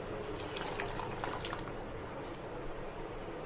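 Water poured into a pot of carrot, tomato and lentil rasam, a steady running splash with a faint drip-like sparkle throughout, close and fairly quiet.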